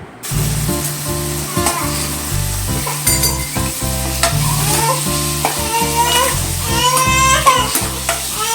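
Tomatoes sautéed with salt in a pan for an anchovy fish curry: a steady close sizzle broken by repeated rhythmic scraping strokes of a spatula.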